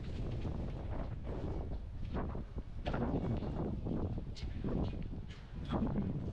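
Strong, steady wind buffets the microphone at a marina dock during a wet day at the 2026 Palm Beach Boat Show, a continuous broadband roar with gusty surges and no talk.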